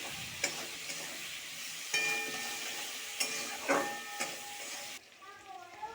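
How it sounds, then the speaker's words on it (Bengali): Tomatoes fry with salt in a pan for a cabbage and chana dal dish while being stirred. There is a continuous close sizzle with periodic sharp scraping knocks of the spoon, and the sizzle drops quieter near the end. "এবার আমি খুব ভালোভাবে মিক্স করতে থাকবো যতক্ষণ না টমেটোগুলো খুব ভালোভাবে গলে যায়।"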